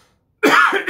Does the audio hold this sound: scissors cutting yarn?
no